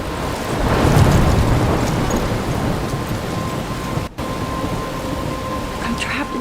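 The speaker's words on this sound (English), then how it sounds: "I'm trapped in a storm?" Thunderstorm with rain in the video game Life is Strange: steady loud rain hiss with a deep rolling thunder rumble early on, then a brief dropout and continued downpour.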